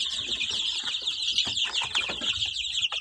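Chickens in a coop keep up a dense, continuous chorus of clucks and chirps, close and loud, with occasional wing flaps and scuffles.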